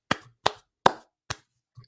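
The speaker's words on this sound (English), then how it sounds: "Round of a freaking applause, please." Five sharp, separate claps spaced evenly about every 0.4 seconds, close and dry, each a crisp smack followed by silence, like a small deliberate round of applause from one person.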